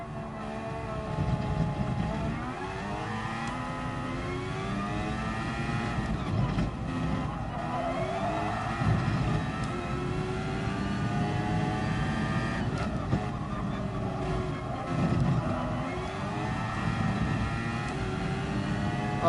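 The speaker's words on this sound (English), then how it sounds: "I'm just enjoying the sound of this car." Racing car engine in Gran Turismo Sport, played in VR, droning steadily at high revs for the whole stretch with rising and falling pitch as it runs flat out, loud and continuous with no talk over it.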